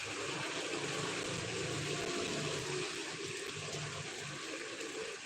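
Rainwater gushes and rushes in a flood during heavy rain, a loud, steady broadband roar of churning water that holds constant and close throughout, with no voices.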